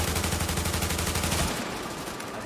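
Automatic gunfire in The Division on Xbox, a rapid, even burst of loud close shots lasting about a second and a half before cutting off into fading noise.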